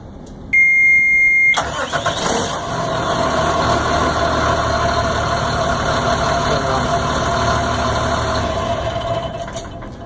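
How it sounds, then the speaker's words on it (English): A car engine cranks after a few warning beeps, catches, and settles into a steady idle close by. "Start the engine?"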